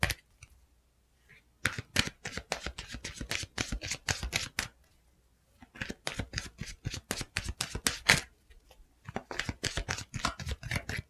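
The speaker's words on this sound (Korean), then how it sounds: "로맨스 엔젤 카드 좀 뽑아볼게요." Romance angel oracle cards being shuffled by hand: crisp, close riffling clatters in several bursts of a second or two, separated by short silent pauses, with no talk.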